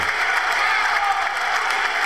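Clapping in the Angolan parliament during the presidential state of the nation address, a dense, hissing burst of applause that is steady and continuous, with no clear voices on top.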